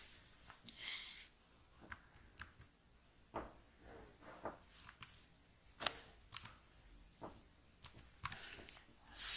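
Keys tapped on a computer keyboard while entering a security code, sounding as scattered, uneven clicks and short bursts of keystrokes, fairly close and quiet, with no talking.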